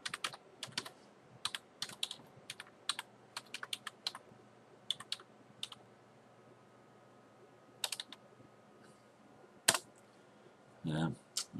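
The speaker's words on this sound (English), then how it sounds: "I typed an extra letter and I just want to..." Typing on a computer keyboard, with sparse bursts of close, crisp key clicks separated by pauses and a louder thump near the end.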